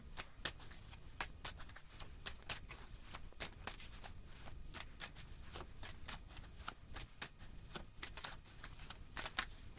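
Tarot cards are shuffled and pulled in a steady, rapid riffle of crisp flutters and snaps, close and continuous throughout, with no one speaking.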